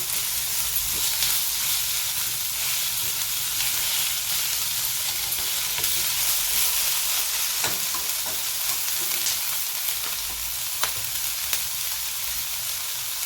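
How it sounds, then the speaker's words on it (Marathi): Chopped onion sautéing in a pan for a capsicum (simla mirchi) dish gives a continuous, even sizzle and hiss, with a few faint stirring taps scattered through. "आता आपण हे व्यवस्थित परतून घेत आहोत कांदा कांदा जो आहे आपण व्यवस्थित आता परतून घेत आहोत"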